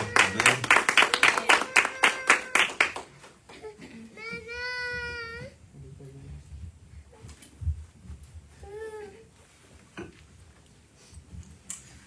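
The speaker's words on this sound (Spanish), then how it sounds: "Le damos un fuerte aplauso." Brief, loud burst of rhythmic clapping from a church congregation at a Tuesday evening service, stopping after a few seconds; a young child's cry and quieter voices follow.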